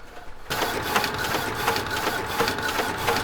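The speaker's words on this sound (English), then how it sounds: "But we have it printed on the dye sublimation printer. It's coming out." A Sawgrass dye sublimation printer starts up abruptly and runs steadily, a dense mechanical whir with regular rhythmic pulses as the print head shuttles back and forth, close and loud with no talk.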